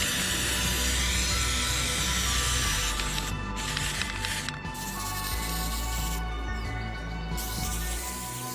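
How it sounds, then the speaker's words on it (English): Spray painting a truck bumper: a steady, close hiss of aerosol spray runs throughout with brief pauses around the middle, over a constant low hum. "I'm just gonna test it out and do a little spray on here"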